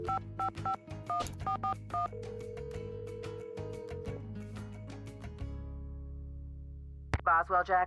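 A telephone number is keyed in within a Nancy Drew mystery game, with a quick run of dialing tones at the start over a sustained background score, then a steady tone and a brief ring near the end.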